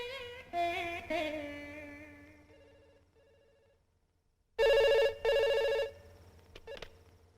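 A telephone rings in a quiet room, with a long ringing tone that decays at the start, then two loud, close rings in quick succession, followed by faint clicks.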